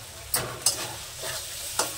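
Spice paste sizzling as it is stir-fried in a pan for a peas and paneer curry, with a spatula scraping through it in a few sharp strokes over a low, steady sizzle.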